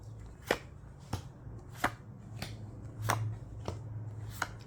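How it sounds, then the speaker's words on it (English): Tarot cards laid down one by one on a table, giving about seven soft, sharp taps spaced roughly evenly over a few seconds, close and quiet with a low steady hum behind. "Let's lay down your cards because I've already shuffled extensively."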